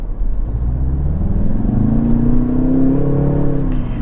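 A Jaguar F-Type Coupe engine revs up on a public road, its close, loud drone climbing steadily in pitch over about four seconds and then easing, with a possible small exhaust pop; no one speaks.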